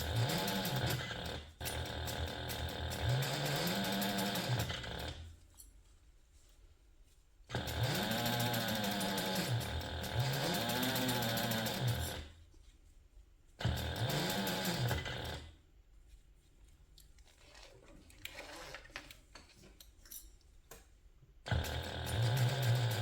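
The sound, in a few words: sewing machine basting a handbag seam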